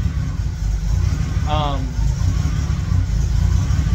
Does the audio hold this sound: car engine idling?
yes